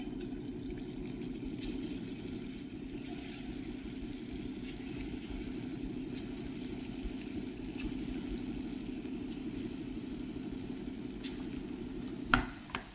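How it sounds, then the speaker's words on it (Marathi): Pudina surprise balls deep-fry in oil over a low flame with a steady, soft bubbling hiss throughout, ending with a couple of sharp clinks near the finish. "मंद आचेवर याला मी आता तळू देणार आहे"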